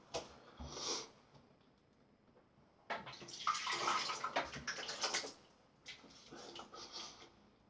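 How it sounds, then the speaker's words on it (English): Water runs from a bathroom tap during a shave with a Gillette Goodwill razor, starting in short splashing bursts and then flowing steadily for a few seconds, close and fairly quiet. "if you hit the tap that way, the water will squirt out that way"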